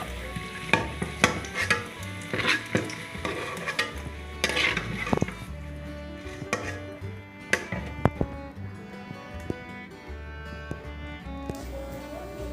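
Potatoes frying for a Bangla-style chicken curry: clattering spatula strokes and scraping against the pan over a light sizzle, in irregular bursts that grow sparser toward the end.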